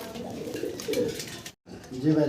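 A male pigeon coos in low, repeated throaty phrases at a pigeon dealer's house, with a brief silent gap midway, while people talk nearby.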